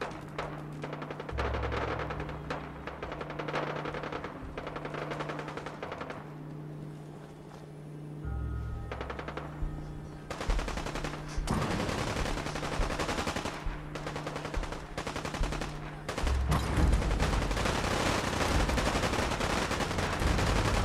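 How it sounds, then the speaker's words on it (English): Gunshots and machine gun fire in Fallout 4, bursts of rapid automatic fire and single shots at moderate distance, recurring across the stretch with loud clusters near the end. "I think I heard gunshot here too."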